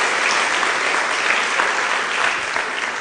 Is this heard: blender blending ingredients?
no